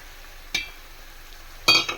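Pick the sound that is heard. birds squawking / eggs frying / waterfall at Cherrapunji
eggs frying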